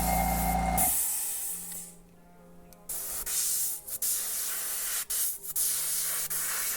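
A gravity feed airbrush gun with a 0.5 nozzle sprays paint onto a pair of Minnie Mouse pants in steady airy hissing bursts, stopping and restarting several times, close and fairly loud with no talking.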